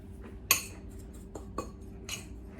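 A metal utensil stirs food seasoned with garlic powder in a pan in a home kitchen, giving a few sharp clinks and scrapes against the cookware at close range over a low steady hum.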